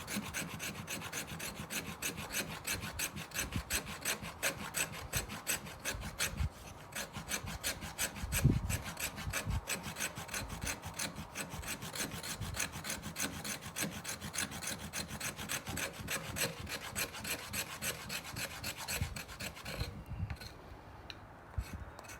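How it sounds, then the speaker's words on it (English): An LT Wright knife spine scrapes steadily across fat wood in a long run of fast, rasping strokes, close and quiet, with no talking. "we always want to clean off the spine of our knife after scraping fat wood"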